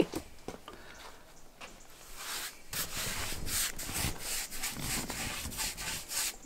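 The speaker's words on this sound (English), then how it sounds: "we're doing the final coat of preservation for the rafters" Wood preservative being brushed onto timber roof rafters of a tiny home, heard as a run of soft, scratchy rubbing strokes that grow steadier and a little louder partway through, with no talk.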